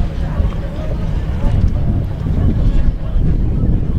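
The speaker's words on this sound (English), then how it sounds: "It is windy out here though." Gusty wind buffets the microphone outdoors at a track meet, a constant low rumbling roar with surges, while faint voices murmur underneath.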